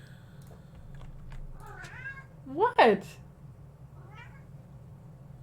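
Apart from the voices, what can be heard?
pet cat meowing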